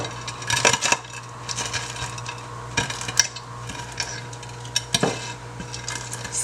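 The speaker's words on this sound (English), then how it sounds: "Slicing up the bacon." Knife slicing raw bacon on a board while making a Bajan-style quiche, heard as a string of crisp cutting taps and scrapes over a steady kitchen hum, with no talking.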